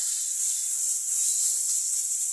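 Chillies and tomatoes sauté in hot oil in a pan, giving a steady, bright sizzling hiss that holds evenly throughout, with no talking.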